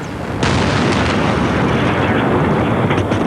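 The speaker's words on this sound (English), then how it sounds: "There was another very large explosion." A very large explosion during the bombing of Baghdad, heard as a sudden loud broadband blast that swells into a sustained, rumbling roar lasting several seconds.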